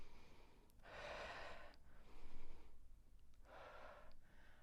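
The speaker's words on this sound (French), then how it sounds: "Surtout qu'on est un petit peu essoufflé, donc on ne veut pas bloquer la respiration" Slow, heavy breaths after an exercise session, two long rushing exhalations with a softer intake between, close and moderately loud with no talking.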